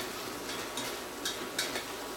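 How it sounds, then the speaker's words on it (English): A pot of carrots being stirred off the heat for carrot soup, soft scraping and a few light spoon knocks against the pot over a low, steady background, with no talking. "Give this a stir"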